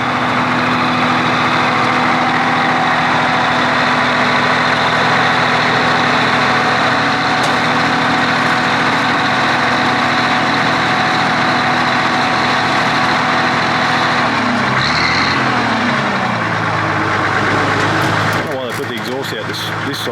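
A vintage Albion Clydesdale truck's diesel engine, in fairly good condition and not smoking, idles steadily with a low, throbbing rumble, close and continuous, with brief voices and shifting noise near the end.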